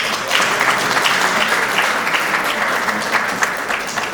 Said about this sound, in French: elles méritent vos applaudissements avant même que je les présente